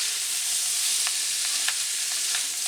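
Cut pork pieces frying in a pan with salt and turmeric for a Coorg-style pork masala fry, a steady bright sizzle with a few soft stirring clicks, close and with no talking.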